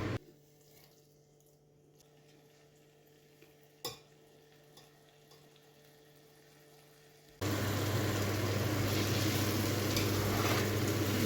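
Grated carrots hit hot ghee in a pan on the stove for gajar halwa; after several quiet seconds with a faint knock, a loud, dense sizzle bursts in and keeps frying steadily to the end.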